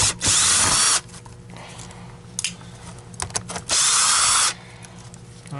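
Power drill unscrewing screws from a Dyson DC39 Animal canister vacuum, two loud whirring bursts of about a second each separated by quiet handling clicks, very close.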